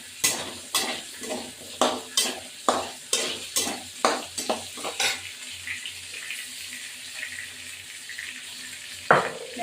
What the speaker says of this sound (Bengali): এখানে মাছ ভাজা হচ্ছে, মাছ ভাজার পরে আলু ভাজবো।